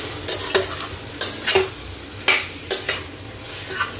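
Spicy mutton liver frying in a pan, stirred with repeated sharp metal scrapes and clinks against the pan over a constant sizzle, loud and close, with no talking.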